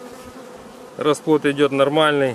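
Buckfast honey bees buzz at an opened hive, a steady close hum running continuously while someone talks in Russian over the second half.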